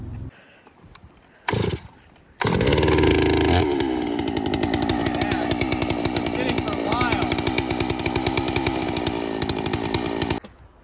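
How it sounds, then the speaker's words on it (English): A large knockoff chainsaw starts up and cuts logs on a mountain homestead, running loud and continuous with a steady revving roar after a brief pull-start. "I know this is a monster chainsaw and this is a knockoff."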